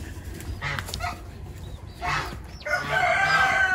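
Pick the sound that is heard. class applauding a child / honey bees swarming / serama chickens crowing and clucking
serama chickens crowing and clucking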